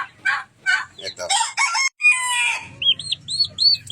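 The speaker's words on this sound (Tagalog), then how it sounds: "Ito nga pala sa inyo yung mga naglilimlim na pabo dito." Brooding turkeys sitting on eggs with a chicken among them make a close run of clucks, gobble-like calls and a crowing burst, followed by high repeated chirps over a low murmur.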